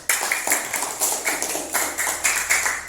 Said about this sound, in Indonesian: berarti tepuk tangan untuk semuanya